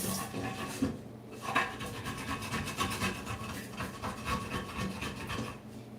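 A metal kitchen spoon used as a scraper while cleaning fish, rasping continuously in quick, uneven rubbing strokes at close range, with no talking.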